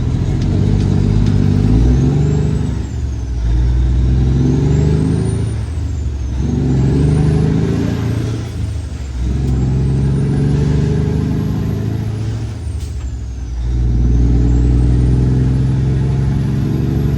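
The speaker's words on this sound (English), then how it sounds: "the Mack dump truck go by" A Mack dump truck roars by on a road near downtown Woodruff, loud and close, its diesel engine rising and falling through gear changes with recurring hissing air-brake bursts over about seventeen seconds.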